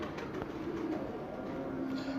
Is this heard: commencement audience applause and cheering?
no